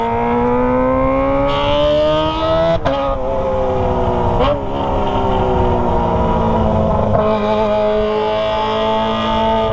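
A loud, close Kawasaki ZX25R sport motorcycle with an aftermarket exhaust revs high and screams continuously, pitch climbing steadily with brief shifts, a raspy aggressive exhaust note throughout.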